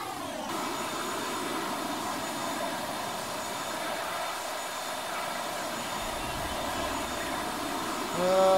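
Aircraft engine in Battlefield 1942, a steady droning whine with a tonal hum holding level throughout and swelling louder in the final moments as the plane takes off.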